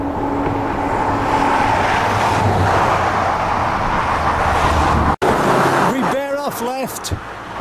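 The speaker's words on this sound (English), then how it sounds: "there's a lot of traffic here" Busy road traffic passing close by a riverside country path near Wallingford, a steady loud whooshing roar of vehicles that cuts out briefly, followed by a few short tonal chirps or squeaks over the fading rumble.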